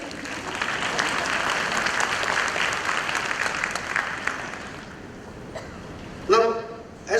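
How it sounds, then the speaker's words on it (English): Audience applause at the 65th ASISC Annual Conference: dense, sustained clapping from a large crowd that gradually thins and fades, followed by a few brief voices near the end. "Yes, that is worth clapping for."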